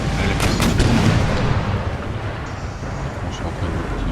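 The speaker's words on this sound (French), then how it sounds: "est-ce que nos canons font feu sur leur pièce d'artillerie?" Cannons fire in an Empire: Total War battle, with a few dull booming blasts early on over a constant rushing, wind-like bed of battle ambience.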